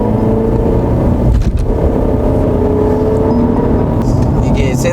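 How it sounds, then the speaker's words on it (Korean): A Mercedes-Benz E350 accelerates as the gas pedal is pressed, its engine a steady, loud low hum and whir heard from inside the cabin, with a few faint clicks near the end. "한번 가속 페달 한번 밟아보겠습니다."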